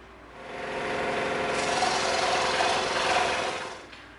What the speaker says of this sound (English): we're gonna take this 12 millimeter circle, we're gonna cut it out on the scroll saw,